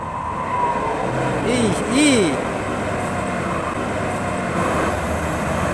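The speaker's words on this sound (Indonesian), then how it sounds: "disusul truk tangki dari belakang guys" Tanker truck overtaking from behind on the road, heard from inside a Hino Euro 4 truck hauling 35 tons of coal: a steady engine drone with a brief swelling, swooping tone around the middle as it passes.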